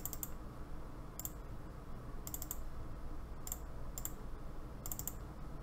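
Sharp clicks from a computer mouse, landing singly and in quick pairs or triplets at irregular intervals over a steady low background hum, close and fairly quiet.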